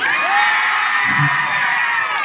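Live crowd at a Nepali comedy night concert cheering and clapping loudly, a sustained dense roar of whoops and applause that fills the whole stretch without pause.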